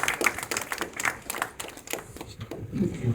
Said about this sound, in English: Will you come here, round of applause?